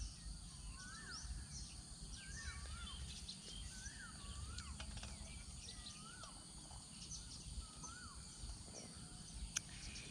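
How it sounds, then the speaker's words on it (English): Outdoors, a bird gives a string of short, rising and falling calls spaced a second or so apart, moderately near, over steady low outdoor rumble and a faint insect hiss; no one speaks. "That bird is beautiful."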